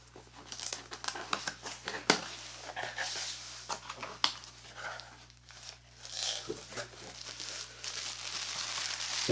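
Packaging crinkles and rustles up close while an Electro-Harmonix EHX Tortion JFET overdrive pedal is unboxed, with soft crumpling and tearing at a quiet level.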